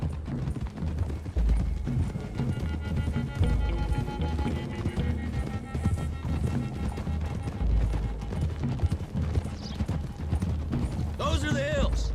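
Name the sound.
horses' hooves clip-clopping in Red Dead Redemption 2, a video game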